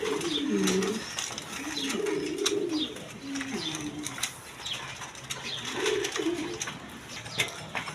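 Cream-coloured female pigeons coo in low, repeated throaty bursts at close range, with soft rustling and faint chirps around them in a busy, noisy setting.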